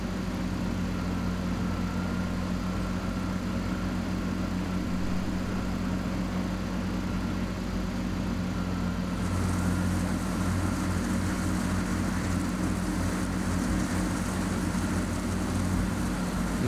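A tractor engine idles and drones steadily in Farming Simulator 15 on a Samara Volga map while clearing stumps for wood chips, a continuous low hum that shifts slightly in tone midway, with no speech.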